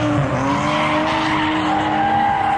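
Straight-piped drift cars at a Friday night drift event at Lanier Raceplex roar loudly and continuously, with sustained squealing tires and engine tones rising and falling, without talk.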